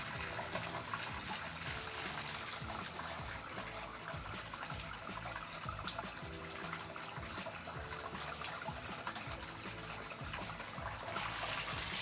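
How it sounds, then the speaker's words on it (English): Tap water pours steadily and evenly into a glass, a constant rushing stream close by that continues throughout without any voices. "I'm gonna run the water into a glass that I have a thermometer stuck in"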